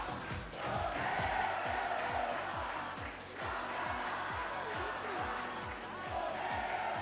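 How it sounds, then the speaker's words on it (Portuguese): Fight fans at a Jungle Fight 107 MMA event in São Paulo cheer a victory, a faint, distant crowd roar with rhythmic chanting and a low repeating pulse beneath. "a torcida do Marco Zignani fazendo barulho, comemorando a vitória dele aqui em São Paulo"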